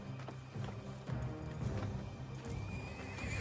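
A frightened black horse neighs, a sound effect with a rising, shaky whinny and snorting, along with faint hoof clip-clops close by, over a low rumbling background.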